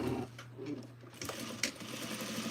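A sewing machine stitches fabric with a steady mechanical hum and chatter, easing briefly in the middle before running on at a constant pace, close and alone.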